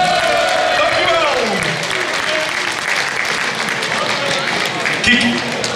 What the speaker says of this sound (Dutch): Dus nog een applaus voor Richie.